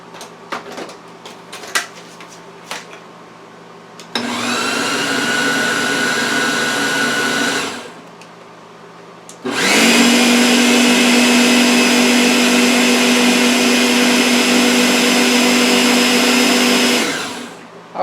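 An electric mixer whirs loudly through pineapple upside-down cake batter in two steady bursts, one about four seconds and a longer one about eight seconds, separated by a short pause, with light kitchen clatter before.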